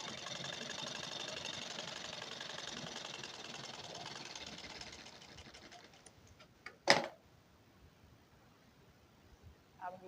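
Sewing machine running a straight stitch along the top edge of a blouse lining, a steady dense mechanical whir for about five seconds that then fades, followed by a sharp click and faint scattered taps.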